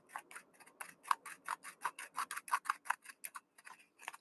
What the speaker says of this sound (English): We're gonna grind this shit up again. I'm gonna put it in a different grinder